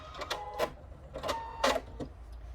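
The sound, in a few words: sewing machine stitching with a blunt needle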